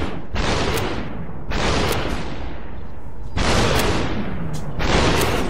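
Gunfire in the VR game Superhot VR comes as four separate loud, sustained bursts, each a broad hiss-like blast with a sharp onset, spaced about a second apart, with no talking.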